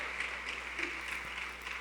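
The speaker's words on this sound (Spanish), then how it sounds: "Démosle fuerte, fuerte, fuerte las palmas al Señor." Church congregation clapping in praise during a Spanish-language worship service, a steady, even patter of many hands filling the room throughout, with no voices over it.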